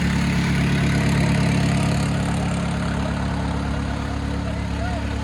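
A modified tractor engine idles with a steady, loud, low rumble that continues unbroken throughout, close by and without pauses.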